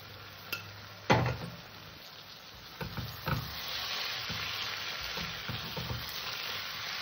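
Boiled rajma tipped into fried spice masala and stirred, starting with a loud thump and sizzle burst, then a steady close frying hiss broken by spoon scrapes against the pan.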